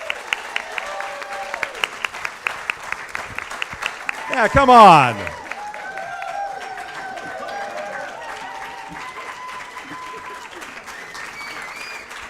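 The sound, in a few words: applause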